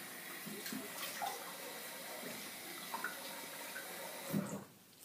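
Tap water runs steadily while a face is rinsed after a shave with a banana, a quiet hissing stream with small splashes that cuts off just before the end.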